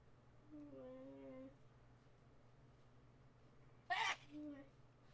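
One sharp, sudden sneeze bursts out near the end, brief and fairly faint, following a stretch of quiet talk and trailing into a short voiced sound.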